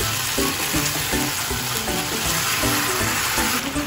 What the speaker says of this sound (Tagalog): sangkutsa na po siya. Ayan, talagang lumabas na yung sarili niyang mantika.